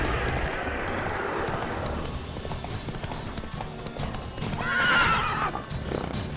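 Horse galloping with rhythmic hoofbeats, then a loud, clear neigh rising near the end, in the fantasy role-playing game The Witcher 3.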